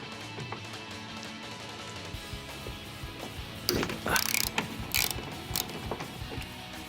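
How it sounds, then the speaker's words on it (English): Ratchet with a 10mm socket loosening the door bolts on a Ford Econoline van, rapid clicking pawl bursts that get louder midway, close up, with no speech. "For this door, it's simply these 4 bolts, 10mm socket, and it comes right off."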